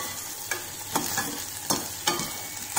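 Sweet potato and tomato pieces fry and brown in a pan, a steady sizzle broken by several spaced scraping stirs of a spoon against the pan.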